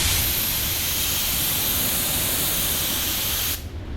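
Spray gun applying a metallic effect coat of car paint during a small spot repair, a loud steady close hiss that cuts off abruptly near the end.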